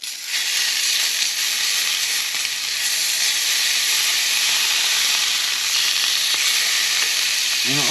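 Blue Bonnet butter sizzles loudly in a preheated cast iron pan, a dense, even frying hiss that holds steady from start to finish with no one talking.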